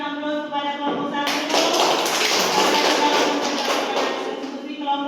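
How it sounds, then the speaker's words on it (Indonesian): Classroom applause for a presenting student group: a brief voice, then a dense burst of many hands clapping together that carries on for several seconds. "mari kita berikan aplaus kepada kelompok 1"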